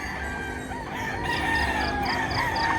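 At a chicken market in Mantalungon, Cebu, several roosters crow one over another amid steady clucking and fowl noise, a loud, crowded chorus with no pause.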